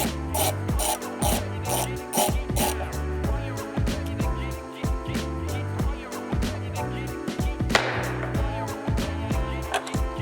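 A hand ratchet with a small extension turns out the screws holding an intake sensor on a Toyota Supra, giving repeated close, quick clicking bursts with brief pauses and a sharper metallic rattle near the end.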